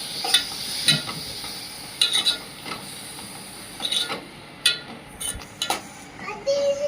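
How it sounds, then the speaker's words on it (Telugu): Grated bottle gourd fries lightly in a pan while a utensil stirs and scrapes it, giving soft intermittent sizzling and clinks in uneven bursts against a quiet background. "సొరకాయనైతే కొంచెం లైట్గా మంచిగా ఫ్రై చేసుకోవాలి. ఇట్లా కలుపుతూ ఉండాలి."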